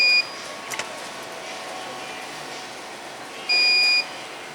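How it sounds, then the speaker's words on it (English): A UPS on a washer compactor control panel beeps after the main power is cut: two short, faint electronic tones, one at the very start and a longer one near the end, over a steady machine hum. "you hear a beeping. It tells that the UPS is activated"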